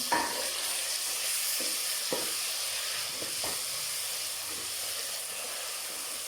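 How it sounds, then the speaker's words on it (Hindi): Ginger garlic paste frying in a pan for daal mash and daal chana, a constant hissing sizzle with occasional soft stirring taps, moderately loud and without speech. "अभी मैं अदरक और लहसुन का पेस्ट डालूँगी।"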